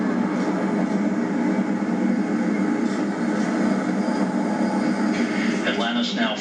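Space Shuttle Atlantis on its final launch from Kennedy Space Center in July 2011 gives off a continuous, dense, broad roar. A voice talks over it throughout.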